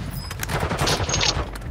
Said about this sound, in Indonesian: Ada sniper dari mana ya?